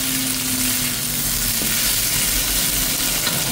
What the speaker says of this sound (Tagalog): Ito guys yung pinagbabaran ko kanina ng aking beef. So, fry ko lang yan.